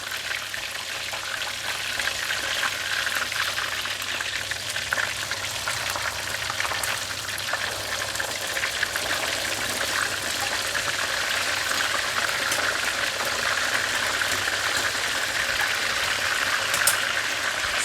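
Whole barramundi (siakap) fish deep frying in hot oil just after being flipped, a steady, dense crackling hiss that runs on evenly throughout with no talk.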